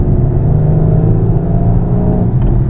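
A 2021 Mercedes-Benz GLC 63 Coupe's engine pulls hard under steady acceleration, a loud, continuous deep rumble and growl heard from inside the car while driving, with no talking.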